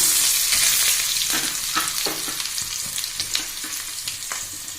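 Onion drops into cumin frying in a pan for a masoor dal, producing a loud, close, hissing sizzle broken by repeated scraping strokes of a spoon.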